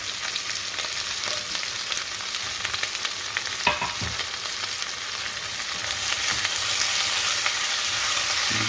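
Onions stirred into browned ground beef for tacos, sizzling steadily in the pan. A few spoon scrapes sound over a constant frying hiss that swells slightly toward the end.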